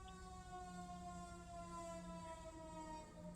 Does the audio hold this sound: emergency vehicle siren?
yes